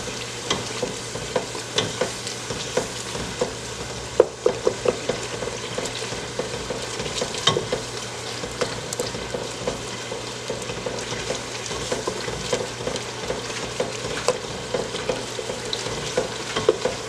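Jollof rice with tomato paste stirred in a pot, a constant sizzle broken by repeated scraping and knocking strokes of the spoon at an irregular pace, close up with no talking.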